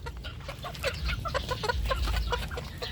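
Several roosters kept as backyard pets cluck and call in rapid, overlapping bursts at close range, with a steady low rumble of background noise underneath and no talking.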